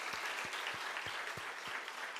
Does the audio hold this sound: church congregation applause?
yes